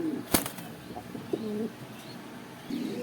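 Pigeons at an exhibition sale give short, close coos, with a brief burst of wing flapping near the start and a few light chirps between the calls.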